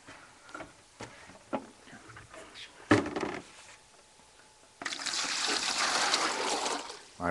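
Water poured from a measure of three quarts, set beside sugar for an ice recipe: scattered knocks and taps first, then a loud, steady, splashing pour that fills the second half.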